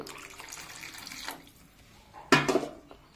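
Water runs and splashes briefly into a cooking pot of fish curry, a faint, close pour that ends in a short louder gush.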